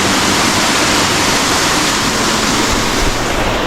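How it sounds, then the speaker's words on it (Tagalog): Bugsok Falls, a waterfall in San Fernando, Camarines Sur, roars in a loud, constant broadband rush of falling water, close and unbroken, with no voices. "Ito na ang Bugsok Falls."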